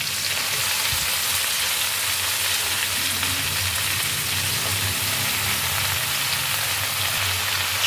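Spinach hits a hot frying pan with mixed vegetables, a loud, steady, close sizzle and crackle that stays constant throughout, with no talk.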